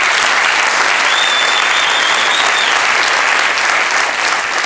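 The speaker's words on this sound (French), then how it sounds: "je voudrais qu'on les applaudisse très très fort." A festival audience at an improv theatre event in Paris applauds loudly and steadily, dense clapping filling the room throughout with a faint whistle rising briefly above it.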